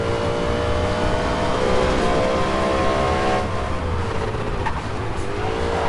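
A car races along in Alarm für Cobra 11 Undercover, its engine droning loud and steady with shifting pitch and a faint tire squeal, continuous throughout with no talking.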